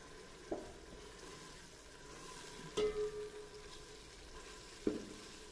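Potato rice with ginger and chillies cooking in a pan over a medium flame, a quiet steady sizzle broken by a few brief clinks of stirring, no voices.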